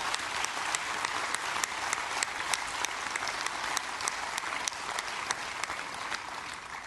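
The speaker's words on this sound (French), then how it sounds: "Vous pouvez les applaudir." Congress audience applauding an honoured older member, a steady, dense round of clapping from a sizeable crowd with a few sharper individual claps standing out, sustained throughout.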